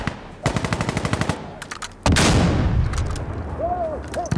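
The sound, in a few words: gunfire in Insurgency Sandstorm video game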